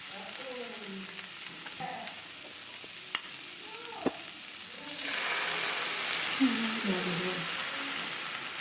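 Loud frying sizzle jumps up as water is poured onto punko greens and poppy seeds in a hot pan, a steady hiss with faint background voices and a couple of sharp clinks.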